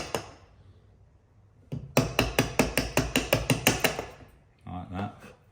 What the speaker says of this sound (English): I'm going to start chiseling this out now